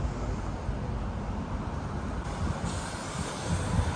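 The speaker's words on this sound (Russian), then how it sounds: "Вот трамвайчик." A tram passes along a city street with a steady, broad rumbling roar throughout and no talk.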